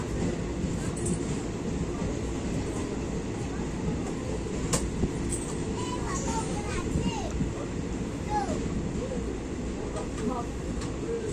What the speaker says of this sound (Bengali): এই যে ট্রেন ছেড়ে বেরিয়ে যাচ্ছে